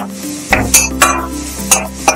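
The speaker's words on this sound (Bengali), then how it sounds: "এটা আমি একটু ভেজে নেবো লাল।" Chicken frying in a little white oil in a pan, with a soft sizzle under several sharp scraping strokes of a spoon stirring against the metal, close up.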